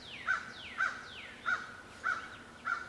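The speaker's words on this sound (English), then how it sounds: "Oh, hush, Mr. Bird." A crow caws repeatedly outside, five harsh evenly spaced calls about half a second apart, clear and fairly close against a quiet background.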